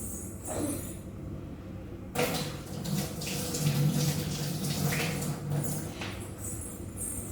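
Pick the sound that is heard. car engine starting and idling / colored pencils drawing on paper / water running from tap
water running from tap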